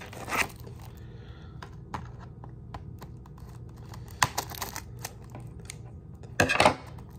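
Scissors cut and scrape at the plastic wrap of an Xbox Series X and Xbox One cross-gen game bundle, giving sparse close clicks and rustles with a few louder crinkling bursts.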